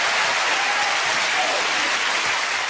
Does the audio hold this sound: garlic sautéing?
no